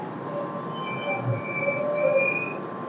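The Gour Express pulls into Bolpur Shantiniketan station at night, a steady low rumble with thin sustained wheel squeals and metallic tones drifting over it, moderately loud and continuous.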